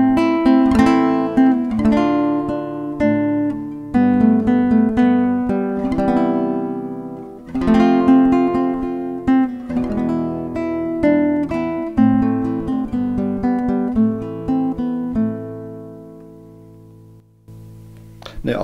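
Ibanez AEG10N II acoustic guitar heard through both its pickup and a microphone, strummed and picked chords ringing with bright sustained harmonics, close and full, fading near the end before a final strum.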